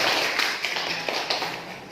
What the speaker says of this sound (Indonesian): berikan tepuk tangan untuk Claudia